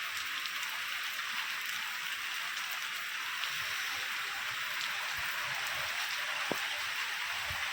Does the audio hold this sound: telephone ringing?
no